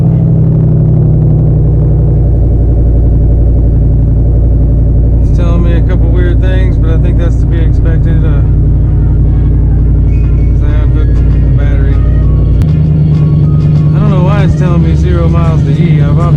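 A 2005–2009 Ford Mustang GT V8 idles steadily after starting, a deep, close rumble running throughout while someone talks over it.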